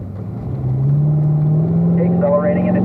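A car accelerating on a race track during a driving school session, with a loud, close engine note rising steadily in pitch as it pulls through the gears.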